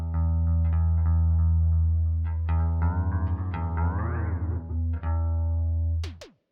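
A sustained analog chorus delay effect on a steady harmonic tone, its pitch bending and warbling as the delay time is swept, then cutting off abruptly with a brief high chirp at the end.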